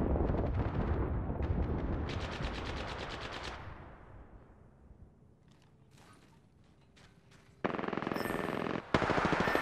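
Apex Legends firefight with dense bursts of rapid automatic gunfire up front, fading into sparse scattered shots and game noise, then a loud harsh blast of sound near the end.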